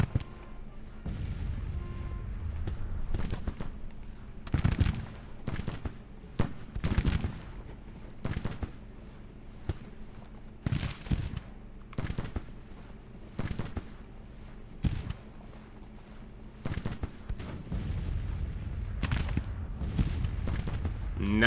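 Artillery fire in the Civil War strategy game Grand Tactician, with repeated booming cannon shots at uneven intervals, some near and some distant, over a steady background rumble.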